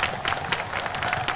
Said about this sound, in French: Applaudissons le peuple haïtien.